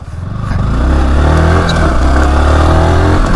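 A Yamaha R15 motorcycle engine runs loud and close, its note rising as the revs build and then holding at a steady, buzzy idle, with no voices.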